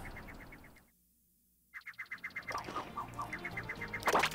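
A bird in Super Mario Odyssey's New Donk City gives a string of short, quacking, duck-like calls that repeat in a steady rhythm, fairly close and clear over faint game ambience, with a brief silent gap partway through.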